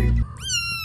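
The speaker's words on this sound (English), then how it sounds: "See how Tilly did not like the noise the white one was making and picked her up" A white kitten meows once, a high rising cry that follows a brief low rumble, close and loud with no talk over it.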